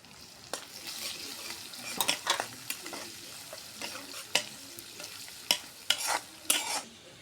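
Chopped garlic, onion and green chilies fry in a pan, a soft sizzle broken by repeated sharp scrapes and clinks of a utensil against the metal as they are stirred, close up and without speech.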